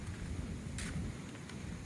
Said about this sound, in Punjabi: ਬੱਦਲ ਗੱਜ ਰਿਹਾ ਬਾਈ ਪੂਰਾ ਮੀਂਹ ਦੀ ਸੰਭਾਵਨਾ